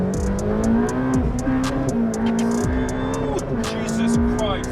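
A Ferrari F8 Tributo accelerating hard up an on-ramp, its engine note sweeping up through the gears in loud, rising pulls with sharp shift breaks, heard close from inside the cabin.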